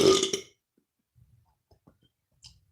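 A single loud, close burp opens, followed by faint low murmurs and quiet background sounds.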